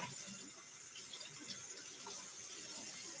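Hot water runs steadily from a kitchen tap, a continuous broadband hiss and splash heard close up, with no voices.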